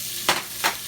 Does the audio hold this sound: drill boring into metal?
no